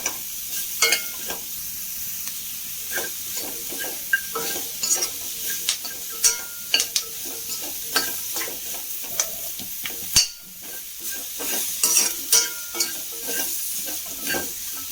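Carrot and potato frying in a pan while being stirred, a soft steady sizzle under repeated scraping and clinking strokes of a spoon against the pan, close and fairly quiet.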